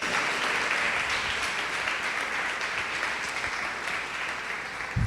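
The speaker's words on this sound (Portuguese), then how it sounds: "Pode aplaudir" A church congregation applauds steadily for several seconds, a dense and even patter of many hands filling the room without pause.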